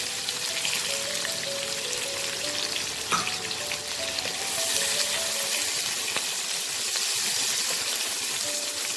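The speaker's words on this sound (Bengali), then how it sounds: "জিরেটা ভাজা ভাজা হলে আমি পেঁয়াজ কুচোটা দেবো।" Chopped onion fries in hot oil with cumin and bay leaf, a loud, steady, close sizzle that swells slightly midway, with a brief utensil knock along the way and no voices.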